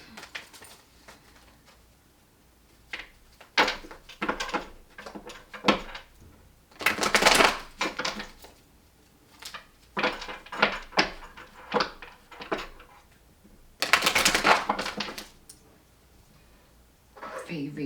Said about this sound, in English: I'm going to drop cards for you